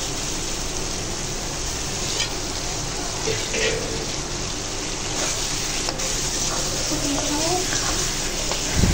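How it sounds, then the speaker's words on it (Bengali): Snakehead fish is fried with spice paste and extra oil in a pan for a Bengali bhuna, giving off a loud, steady, close sizzling hiss that continues without a break. "মাছটাও ভালো করে কষিয়ে নেব।"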